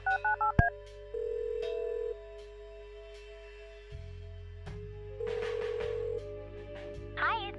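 Telephone dialing in the Kathy Rain video game: a quick run of touch-tone beeps, then long steady tones with hums and clicks between them, close and without talk.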